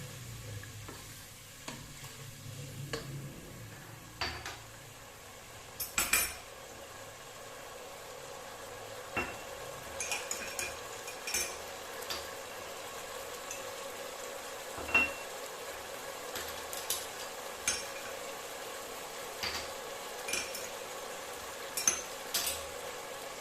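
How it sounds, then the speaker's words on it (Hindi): Chicken nugget rice being stirred in a pan, with a soft sizzle and scattered scraping knocks from a utensil against the pan, close and fairly quiet, with no talking. "अच्छा सा मिक्स करेंगे।"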